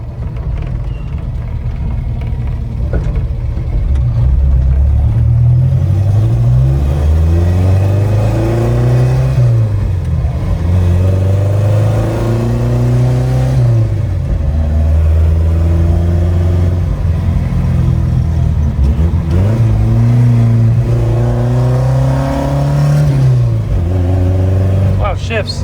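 A Ford Anglia engine drones loudly from inside the car while driving, revving up in rising sweeps and dropping between gear shifts, repeated several times over the clip.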